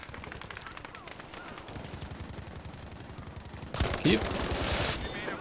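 Gunfire in the online shooter Battlefield V: rapid automatic bursts crackle in a steady rhythm, then a louder, closer burst of shots and explosive noise erupts near the end, with a player's voice briefly heard.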